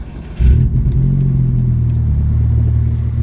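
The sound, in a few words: turbocharged Chevrolet Cobalt SS engine revving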